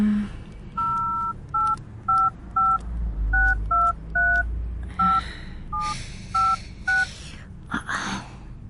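Touch-tone telephone number being dialed to call a taxi, a quick series of about fourteen crisp electronic beeps in uneven bursts, close and clear with no talking.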